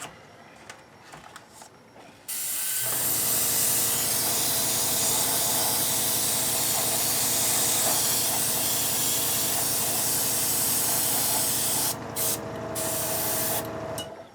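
An airbrush sprays paint onto an F-14 model kit, a loud, steady hiss that starts abruptly after a few quiet seconds, runs unbroken for about ten seconds, then stutters and fades near the end.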